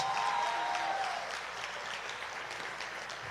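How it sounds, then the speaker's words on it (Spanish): Applause from a gathered congregation, a fairly quiet, even patter of hands that fades slightly over a few seconds. "Denle un aplauso a Esther Hernández, que está en medio de nosotros."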